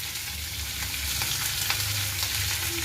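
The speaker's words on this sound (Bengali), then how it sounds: "এইভাবেই আমরা আলুগুলি নাড়বো তেলের সঙ্গে" Potatoes sizzle and crackle steadily in hot oil for a Bengali aloo torkari while being stirred, a dense continuous frying hiss close by with faint scraping of the spoon through the pan.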